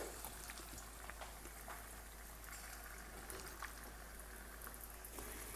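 Rice-flour-coated prawns roast in hot oil in a kadai, giving a faint, steady sizzle scattered with small crackling pops throughout.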